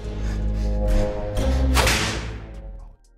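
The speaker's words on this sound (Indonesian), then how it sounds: "yaitu berupa hukuman cambuk" A sharp whip crack cuts through a heavy dramatic backdrop, followed by a swishing whoosh and a dull thud before things fall quiet.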